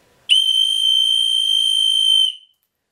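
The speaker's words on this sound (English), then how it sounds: "It's a bloody loud whistle." A loud emergency whistle gives one steady, piercing blast lasting about two seconds, then stops sharply with silence on either side.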